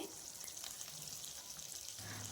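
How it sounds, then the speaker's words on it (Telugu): Curry leaves frying in oil in a pan for a cabbage and chana dal curry, a faint, steady sizzle and crackle heard close, quiet and continuous with no talking. "ఇంకా కరివేపాకు కూడా వేసేసుకొని కొంచెం దూరగా ఫ్రై చేసుకోవాలి"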